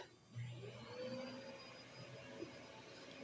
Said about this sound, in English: And there's the vacuum cleaner.